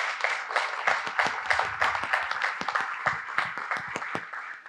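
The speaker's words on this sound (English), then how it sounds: "So I welcome all of you to give him a round of applause to make him feel welcome" Conference audience gives a sustained round of applause for a speaker at an event on digital futures and Kerala's economy, dense overlapping claps from a nearby crowd with no talking.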